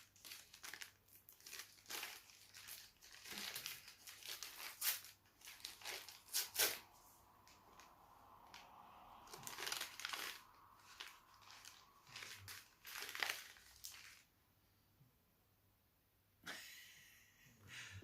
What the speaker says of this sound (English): I don't like ripping it, but I think I'm going to have to.